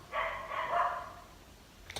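A neighbor's dog barks in a drawn-out volley of yelps and barks, loud and fairly near at a house, with no voices over it.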